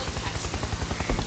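A helicopter in the Happy Wheels video game gives a loud, steady rotor chop that beats fast and evenly throughout.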